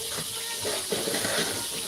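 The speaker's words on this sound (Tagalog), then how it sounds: "Piprito muna ako ng isda." Fish frying in hot oil, a steady close sizzle with crackling pops running the whole time, no talk.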